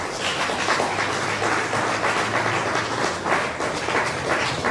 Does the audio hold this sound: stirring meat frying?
no